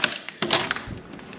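A door is opened during a storm, giving a few close wooden knocks and creaks with a short rattling scrape, then quieter sounds.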